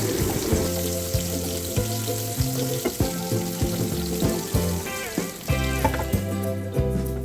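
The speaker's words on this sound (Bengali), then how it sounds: "তো পেঁয়াজ এবং আস্ত জিরা ভাজা ভাজা হয়ে আসছে প্রায়" Sliced onion and whole cumin seeds fry in hot oil in a pan, a steady crackling sizzle that carries on continuously alongside sustained musical tones.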